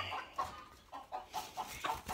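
A white-crested black Polish chicken clucks softly nearby, a string of short, rhythmic murmured clucks at a quiet level with no talking.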